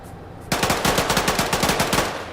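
Arma 3 gunfire: after a brief quiet moment, a rapid automatic burst of about fifteen sharp, evenly spaced shots rings out, loud and close.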